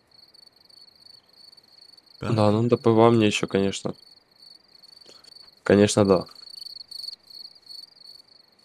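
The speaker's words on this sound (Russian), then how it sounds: "Тут сверчков до хрена." Crickets chirp in a steady, high, continuous trill across an outdoor fishing spot in Russian Fishing 4, running under two short bursts of a man's conversation.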